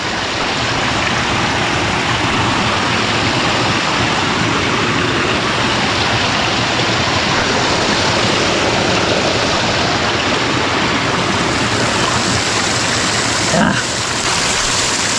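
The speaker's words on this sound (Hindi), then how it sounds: "पूरा पहाड़ चट्टान को काट काट के पानी आ रहा है" A mountain stream of clear water rushes down through cut rock near Rangat, a loud, steady, broadband roar that stays constant throughout with no breaks.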